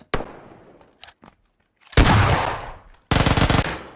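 SLR rifle gunfire in the PUBG Lite video game, a sharp crack followed by two loud sustained bursts of shooting, close and punchy with brief silences between.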